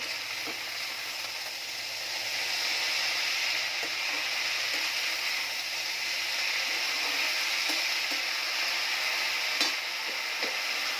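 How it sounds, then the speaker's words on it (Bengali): Leafy greens being stirred in a home cooking pan, a steady soft sizzle with occasional light scraping ticks throughout, no talking. "শাকটা নাড়াচাড়া করে নেব"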